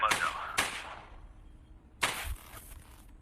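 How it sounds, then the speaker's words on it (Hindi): Three sharp gunshots crack in a movie scene where officers are shot, two in quick succession and a third after a pause, each trailing off in a short echo. "उस फुटेज को देखा जिसमें एडी ने ऑफिसर्स पर गोली चलाई"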